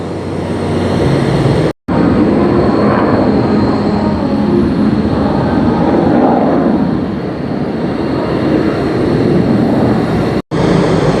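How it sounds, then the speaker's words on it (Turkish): Loud, steady jet engines of Turkish Stars aerobatic team aircraft roar and whine nearby at Teknofest 2023 Istanbul, a sustained rumbling drone that continues throughout with no speech. "Türk Yıldızları uçakları dediğim gibi motor çalıştırıyor"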